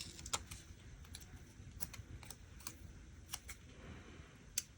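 Scissors snipping through washi tape near a snowflake pattern while decorating a December planner journal, several short crisp clicks spaced irregularly, close and quiet over a low hushed background.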